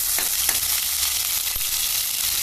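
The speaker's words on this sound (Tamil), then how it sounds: "உருளைக்கிழங்கு வரவளுக்கு எண்ணெய் ஊற்றியாச்சு, பெருஞ்சீரகத்தை போட்டாச்சு, அதில் இஞ்சி பூண்டை பேஸ்ட் போட்டாச்சு" Ginger garlic paste and fennel seeds frying in hot oil, a loud, steady sizzle with occasional stirring scrapes, close up and without talk.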